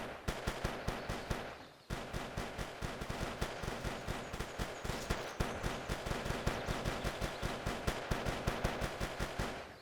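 Rapid revolver gunfire in the VR sandbox game ModBox: loud, closely spaced shots in a continuous burst, pausing briefly before resuming at a steady fast rhythm.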